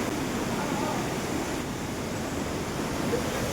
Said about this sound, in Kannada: ಇದು ನದಿದು ಸೌಂಡ್ ದೇವಸ್ಥಾನ ಒಳಗಡೆ ಗಂಟ ಕೇಳಿಸ್ತೈತೆ